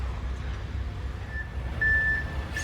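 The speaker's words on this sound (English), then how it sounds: "She does not like the beeping sound from the cement mixers." Intermittent high reversing beeps from a cement mixer truck sound faintly over a steady low engine rumble during road repairs, growing a bit louder toward the end.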